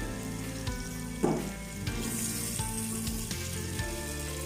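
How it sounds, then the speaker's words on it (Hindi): Onions sizzle loudly in hot ghee for matar gosht, a dense continuous frying hiss with a few sharp crackles and stirring knocks. The sound is close and steady, with no talking. "प्याज को हम ब्राउन करेंगे।"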